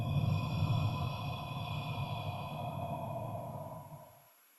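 A long, deep exhale during a guided meditation session, heard as a steady breathy rush close to the microphone that fades out over about four seconds.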